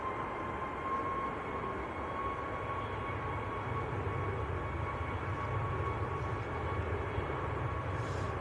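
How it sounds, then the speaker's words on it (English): A Ryanair jet rolls for takeoff at Manchester Airport, heard from a distance as a faint, steady engine rumble with a thin whining tone running through it. "That Ryanair is on the roll at the moment."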